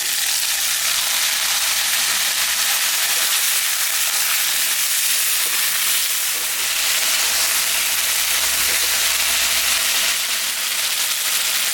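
Potatoes and cauliflower frying with browned onions in a pan, a loud, steady hissing sizzle that continues without a break, with faint stirring scrapes and no talking.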